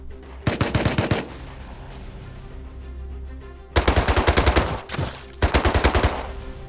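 Automatic gunfire from an MP5 in the survival game Rust, three loud rapid bursts with pauses between them over steady background game ambience.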